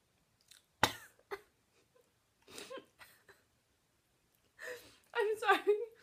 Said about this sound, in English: You can probably hear my eating noises.